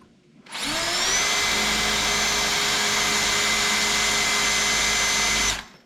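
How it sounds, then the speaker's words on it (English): Power drill boring into a tin sheet for a wood stove heat shield, a steady loud whine starting after half a second and running about five seconds before cutting off, with no talk. "I'll be able to pull the tin out and drill it big time."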